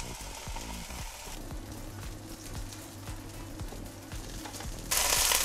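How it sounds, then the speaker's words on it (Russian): Slices of zucchini fry in a hot pan with a steady, close sizzle and crackle, broken by occasional soft knocks and scrapes. "Выкладываю кабачки на сковороду и обжариваю с двух сторон."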